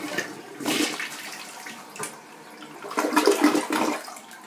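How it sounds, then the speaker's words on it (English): Full flush of a dual flush toilet: a loud rushing swirl of water draining from the bowl, surging, easing and surging again before tapering off, close and unaccompanied by voices. "I'm going to go ahead and do the full flush."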